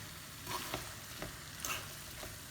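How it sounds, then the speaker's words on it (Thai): Pad thai stir-frying in a pan: a steady sizzle with a few louder scraping stirs at irregular intervals, close and fairly quiet, no talking. "การทำผัดไทย"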